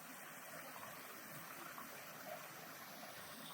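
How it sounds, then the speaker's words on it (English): Koi pond waterfall running for the season, a faint, steady splashing rush of falling water, continuous and even throughout with no voices. "the waterfall's up and running for the season."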